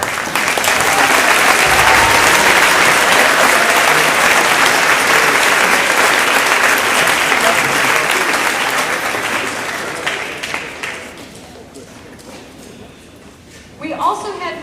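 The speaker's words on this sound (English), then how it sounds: "please join me in congratulating with a round of applause Timmy Benz, Jack Thompson, and Nate Cooper" At a school awards ceremony, an audience applauds scholarship students with a long, loud, even wash of clapping that fades after about ten seconds to sparse claps, then a voice begins speaking near the end.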